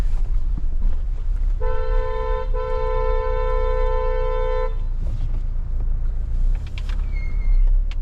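A car horn honks loudly, a short toot then a longer sustained blast, over steady traffic rumble and street noise.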